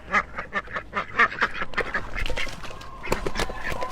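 Ducks quack in rapid overlapping bursts beside a backyard pool on a farm, several birds calling loudly and close together without pause.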